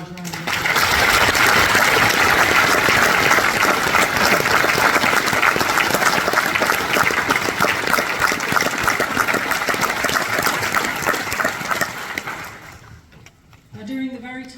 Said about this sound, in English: So can we give them all a large round of applause?